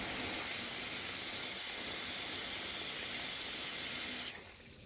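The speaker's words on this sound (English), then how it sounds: "so I'm gonna add a little more water." Water runs steadily into a metal water-bath canning pot holding jars of pears in a continuous hissing stream, close by, then cuts off abruptly near the end.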